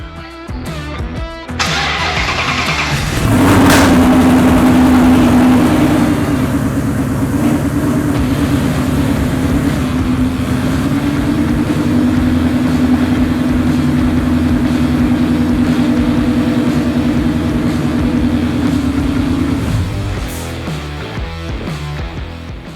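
A car with a swapped-in Voodoo engine cranks briefly, fires on the first try and settles into a loud, steady, rumbling run up close for about sixteen seconds before shutting off, with no talking.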